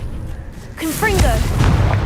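A booming fire-spell blast, Confringo, in the Hogwarts Legacy video game: a sharp explosive burst that erupts after a quieter lead-in and rumbles on loudly to the end.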